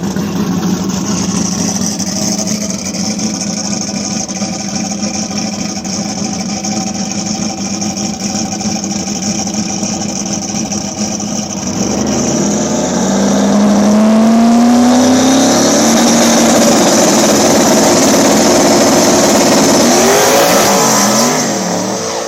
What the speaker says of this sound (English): Taking on J.E. Burnell over here in the lane we're in with his single turbo LS Nova.